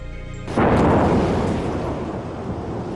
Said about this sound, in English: a massive explosion lit up the sky above Addis